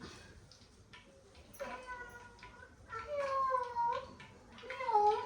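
A small kitten mews several times, thin and high, the cries growing louder toward the end over faint background noise.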